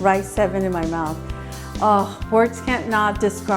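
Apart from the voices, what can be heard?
None of the usual background noises is heard.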